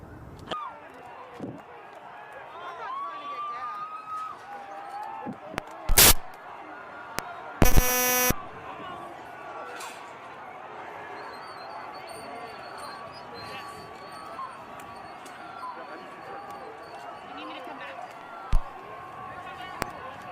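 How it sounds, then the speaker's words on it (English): Flashbang blasts go off amid crowd noise as pro-Trump supporters storm the US Capitol: two sharp, loud bangs close together, then a smaller pop later over a steady background din. "Aside from those noises, those flashbangs"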